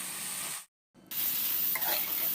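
Spinach and soaked masoor lentils hit a hot frying pan of already-fried vegetables, a loud steady sizzle that cuts out briefly, then surges back with stirring scrapes.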